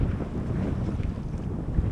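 Sailboat running hands-free at about 6 knots in 8 knots of wind off the UK coast near Portland, with steady rushing wind buffeting the microphone and low water wash, continuous and without talk.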